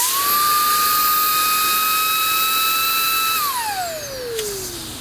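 Makita cordless leaf blower running at full speed with a high steady whine, then spinning down as it is shut off near the end, close and loud with no talking.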